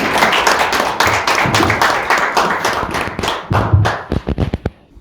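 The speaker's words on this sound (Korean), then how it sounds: "박수로 맞이해 주시죠." An audience claps to welcome a speaker to the podium for a lecture on data policy. The steady applause is close and full, then thins into a few scattered, separate claps before it stops.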